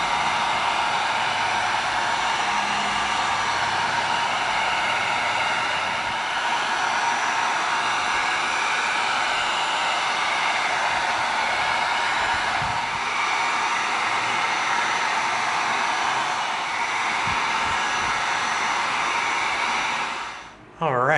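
A heat gun blows a steady, loud broadband hiss across an EVA foam chainsword, running continuously for about twenty seconds before cutting off abruptly at the end.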